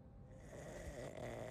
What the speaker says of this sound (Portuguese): Caraca, ronca pra caramba